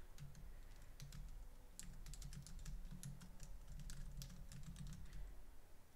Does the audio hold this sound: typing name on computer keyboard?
yes